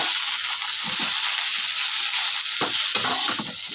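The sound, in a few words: sautéing coriander leaves for mint coriander biryani in a pan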